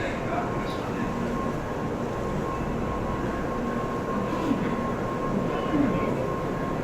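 A Nozomi 25 Shinkansen bound for Hakata, running about 40 minutes late after heavy rain, arrives at Okayama station with a steady low rumble and hum under a station announcement.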